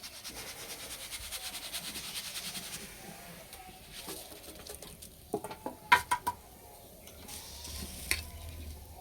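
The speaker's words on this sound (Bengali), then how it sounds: "এইরকম করে সব চিড়েগুলো ভেজে নেব" Flattened rice (chira) frying in hot oil, a faint steady sizzle with a few louder clinks and scrapes from a strainer spoon partway through, close and quiet with no voices.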